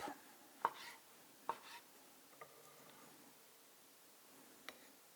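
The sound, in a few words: knife slicing mango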